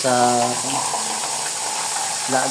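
Water is poured into a pan of meat for boiling, a continuous splashing pour heard close and loud, with someone speaking over it at the start and end.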